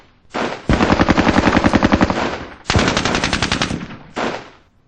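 Machine-gun fire from troops in a World War II video game: long loud bursts of rapid regular shots, a short pause, another sustained burst, then a brief final volley, with no talk.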